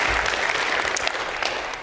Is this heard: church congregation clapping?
yes